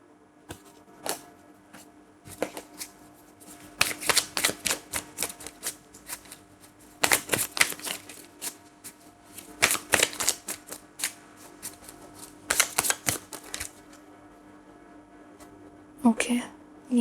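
Tarot cards being shuffled in clustered bursts of crisp riffling and slapping, separated by quiet gaps, with a faint voice now and then.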